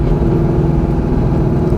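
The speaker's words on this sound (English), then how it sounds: "Downshifts nicely. It's a fourth to third, coming up to a stop here." A modified 2001 Pontiac Trans-Am WS6 engine downshifts from fourth to third while slowing toward a stop: a loud, close, steady low rumble with a slightly uneven throb throughout.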